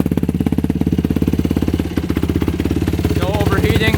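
A modified race quad bike's small engine idles steadily with a fast, even putter, close by, with a brief voice near the end.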